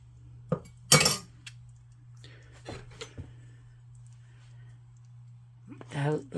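A serving spoon scoops into a dish of cheesy beef and broccoli with noodles, giving a few sharp clinks and scrapes against the pan, then a brief voice near the end.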